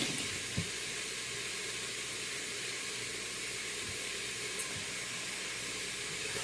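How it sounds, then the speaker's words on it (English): Onions sauté in a pot for buffalo chicken soup, a steady soft sizzle and hiss that holds evenly, with a couple of faint taps and no talking. "I just want to cook this up, saute it up until the onions start to get a little bit translucent"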